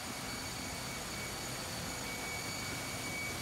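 Main engine of a ro-ro ship running in the engine room, heard at the aft side of its head level as a dense, steady roar with a constant high whine and no pauses.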